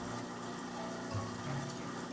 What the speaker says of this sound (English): Let the water run for a little while.